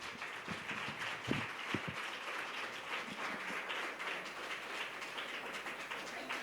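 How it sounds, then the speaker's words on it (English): Audience at a launch event giving a round of applause, a steady, moderately faint wash of many hands clapping with a few louder nearby claps early on. "Give him a round of applause."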